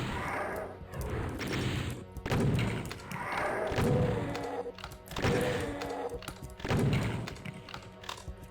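Super shotgun blasts and heavy impacts in Doom II, a run of loud booming thuds spaced roughly every one to two seconds, dense and close, with no speech over them.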